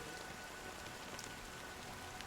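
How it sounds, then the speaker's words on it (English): Rain falls steadily in the video game Honkai Star Rail, a dense, even hiss of drops on surfaces with faint scattered patters, heard alone without voices. "it's still raining"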